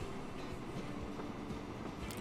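A train rolls along in the rail-building game Transport Fever 2, a steady low rumble of wheels and wagons with a faint rhythmic clatter, moderately distant and even, no talking.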